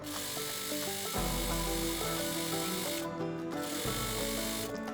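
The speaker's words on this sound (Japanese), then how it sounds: "次にこの生地の右と左の両サイドにロックミシンをかけておきます。" An overlock serger runs steadily along both side edges of fabric for a tasseled skirt, a close, continuous high-speed mechanical whir with brief pauses and restarts between passes.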